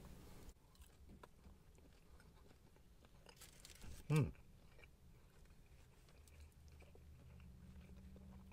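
One sharp, close bite into a double sausage burger gives a brief crunch, followed by faint chewing against quiet outdoor background noise outside a restaurant.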